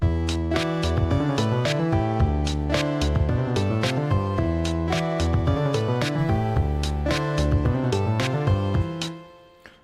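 A slap bass line rendered on synthesizers for a game soundtrack, punchy plucked notes in a bouncy, syncopated groove with bright percussive hits, loud and continuous before fading out at the end.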